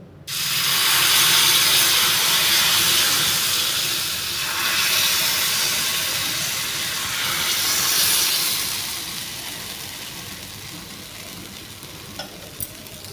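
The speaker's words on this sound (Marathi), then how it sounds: "तवा चांगला गरम झालेला आहे आता आपण यावर डोसा घालून घेऊ" Jowar flour dosa batter hitting a hot tawa, bursting into a loud, close hiss and sizzle that steams on and slowly eases to a softer, steady crackle.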